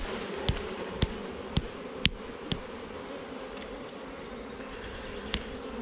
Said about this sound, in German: Ich hau erst die Bienen runter.